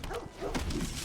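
A person imitates a dog, barking "woof woof" twice in a row in a short, close, fairly loud burst of voice over a tabletop card game.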